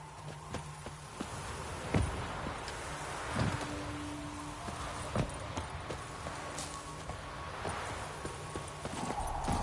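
Horse hooves clip-clopping at a steady walking pace on a path in The Witcher 3: Wild Hunt, close and moderately loud over a soft outdoor ambience of wind and rustling leaves.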